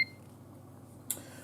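A Ninja Foodi pressure cooker gives one short electronic beep at the start and another faint beep about a second later as its timer is set, with a soft hum underneath.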